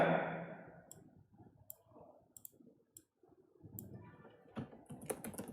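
Code being typed on a computer keyboard, with light, irregular key clicks and taps scattered across the stretch, some faint and some sharper, recorded close in a quiet room without talk.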